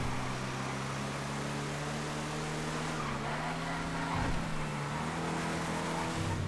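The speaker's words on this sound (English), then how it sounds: "I mean, they're all race cars" Race cars in the video game GTA FiveM drive continuously, a steady loud engine drone with shifting pitch and a brief tire-squeal touch midway, no talk.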